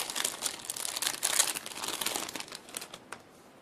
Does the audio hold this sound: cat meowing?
no